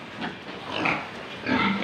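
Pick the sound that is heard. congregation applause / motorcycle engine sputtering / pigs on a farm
pigs on a farm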